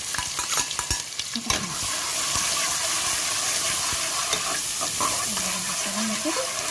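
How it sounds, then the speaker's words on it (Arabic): Onions sauté in a pan for a vegetable stew, a steady sizzle and hiss with scraping stirs close by, a few clinks at the start. "انا حبايبي اقلب فيها لغايه ما دخلت فيها كده في لون البصلايه بقى بسرعه"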